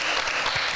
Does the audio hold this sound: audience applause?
yes